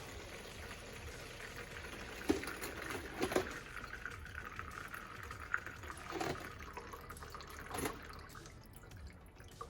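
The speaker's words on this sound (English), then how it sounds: "So I'm going to pour it from this container into the one here that I've got the top cut off of" Methyl hydrate carrying small engine lifter parts is poured from one container into another whose top has been cut off. It makes a faint, steady liquid trickle with occasional small splashes and clinks.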